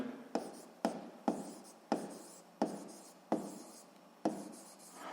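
Handwriting on a surface during a physics lesson, about seven rhythmic stroke bursts of scratchy writing heard close and clear, with no talk over them.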